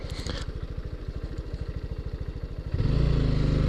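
A super tiny motorcycle putters through deep snow, its small engine firing in a rapid, even thumping rhythm before the revs jump louder and rougher near the end.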